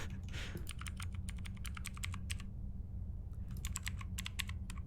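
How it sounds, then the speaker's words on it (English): Rapid keyboard typing noises in the video game A Place, Forbidden, a continuous flurry of crisp clicks with a brief pause midway, over a steady low hum, with no talking. "Oh, those are some good keyboard noises."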